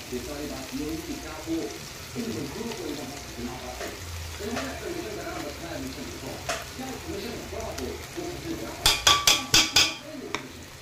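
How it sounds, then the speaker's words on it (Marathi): A ginger, garlic, green chili and coriander paste sizzles and fries in a pan with onion, capsicum and tomato for pav bhaji, a steady crackle with stirring scrapes under a voice, then a quick run of sharp metallic taps near the end. "चला आता हे आपले आलं लसूणची पेस्ट पण छान परतवली गेली"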